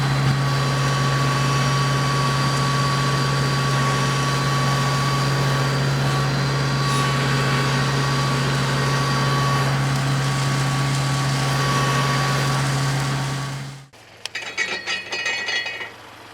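A tractor engine drones steadily with a heavy mechanical hum and rattling PTO-driven flail mower with hammer blades, then cuts off abruptly near the end, leaving scattered clanks.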